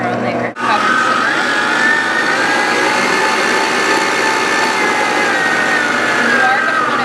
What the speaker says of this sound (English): we're going to turn this little knob down to 1 and start the mixer on there